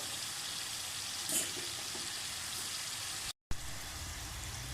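Murukku frying in hot oil gives a steady, close sizzling hiss that barely changes, broken by one brief dropout near the end.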